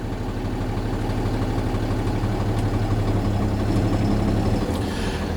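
A truck's engine idles in a steady, loud, low rumble with constant vibration as the clutch is slowly released during a parking brake test, with no talk over it.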